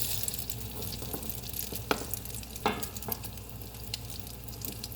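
Spanish tortilla sizzling in a pot while a spatula scrapes and turns it, a steady frying hiss with a few soft knocks and scrapes close by.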